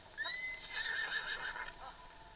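A horse neighs in the video game Zelda Breath of the Wild, emulated through Cemu on a GPD Win Max: a bright, wavering whinny of about a second and a half, close and clear, with faint hoof clops beneath.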